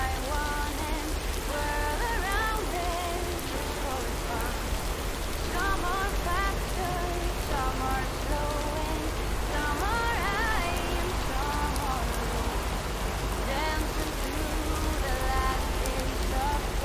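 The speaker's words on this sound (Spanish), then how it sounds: "Me gusta la lluvia, o sea, el sonido y tal, me encanta." Rain falling in a horror video game, a steady hiss of droplets on surfaces throughout, with faint tonal game music or effects drifting over it and no talk.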